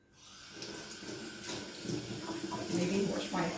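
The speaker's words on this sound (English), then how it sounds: "let me wash my hands 2 seconds" A kitchen tap runs while hands are washed during cooking, a soft, fairly faint hiss of flowing water that swells slightly with splashing near the end.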